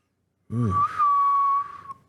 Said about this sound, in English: I was not trying to whistle.